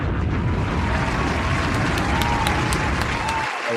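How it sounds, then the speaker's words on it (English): Steady, dense clapping from a group fills the whole stretch at close range, then cuts off abruptly at the end. "Oh, we're applauding."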